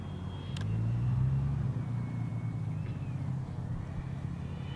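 A Freewing MiG-29 Fulcrum RC jet with a problematic battery eases its thrust on approach, a steady low motor rumble that swells briefly then settles into a softer drone.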